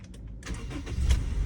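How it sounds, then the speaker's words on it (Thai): A 2.0-litre third-generation Honda CR-V starting up: a short crank from the starter, then the engine catches and settles into a low, steady idle, heard close and fairly quietly. "เดี๋ยวผมสตาร์ทเครื่องให้ฟังเสียงเครื่องยนต์กันดูนะครับ"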